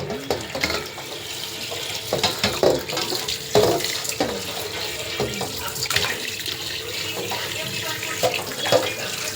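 Fish are rinsed by hand under a running kitchen tap, a steady close rush of water with splashes and handling knocks as the pieces are turned, continuous and fairly loud.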